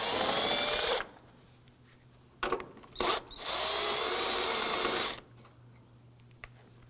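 A power tool, likely a drill-driver, spins out 10mm headlight bolts on a 2008-2011 Ford Focus, with a loud one-second whir, a couple of short blips, then a longer sustained run of about two seconds, quiet between bursts.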